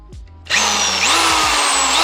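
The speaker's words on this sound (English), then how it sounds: "I'm gonna drill the hole and then I'm gonna tap it real fast." A power drill spins up and bores a hole in metal on a junkyard 5.3 drift build, a loud, steady high whine with a slight pitch shift as the bit bites, close and alone.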